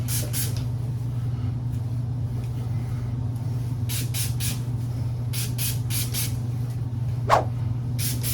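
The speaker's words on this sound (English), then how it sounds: "I'm gonna spray it with some heat protectant." Several short hissing bursts from a spray bottle of heat protectant sprayed on hair, spaced a few seconds apart, over a constant low droning hum.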